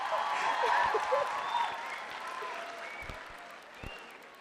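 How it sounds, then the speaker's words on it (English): Audience applause at a student career-guidance session on board exam preparation: steady clapping from a crowd, fairly loud at first and slowly thinning, with scattered voices and a few whoops mixed in. "Come on, little more big round of applause for me,"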